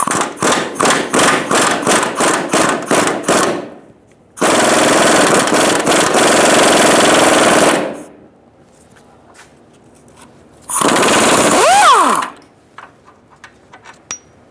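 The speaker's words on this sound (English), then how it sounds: "I'm going to use a 17mm socket to get the bolt out for the control arm." A 17mm socket works a lower control arm bolt loose on a 2010-2013 Kia Soul: a string of rapid, loud rattling impact bursts, then a long steady mechanical whir, and later a short whining run after a quiet gap.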